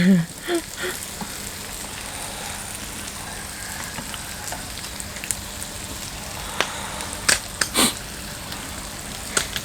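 Pork fat sizzles and spatters on a moo kratha grill, a steady crackling hiss with a few sharper pops and bursts near the end, and a voice briefly heard at the start.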